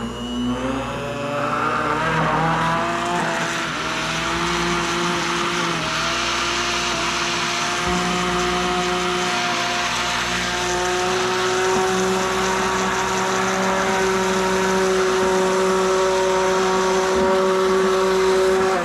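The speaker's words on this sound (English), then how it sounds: "so it's technically a emulsion blender, not an immersion blender" Immersion blender whirring steadily through iced coffee for the full stretch, a loud continuous motor drone with a pitch that rises then holds high and steady as the drink emulsifies.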